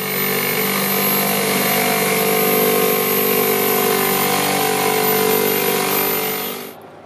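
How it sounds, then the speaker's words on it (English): A jigsaw cuts a hole for a composting-toilet bucket through a wooden seat board, a loud, steady buzzing whine running unbroken for several seconds and then cutting off abruptly near the end. "I just got to cut that out with the jigsaw"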